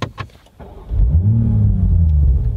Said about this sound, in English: So I propose we start up the engine and go for a drive